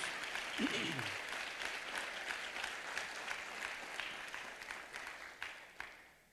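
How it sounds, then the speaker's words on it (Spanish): Church congregation applauding in a full, even ripple of clapping under a faint voice, gradually thinning into a few scattered claps and fading at the end. "Damos una ofrenda de palmas, hermano, a Jesús."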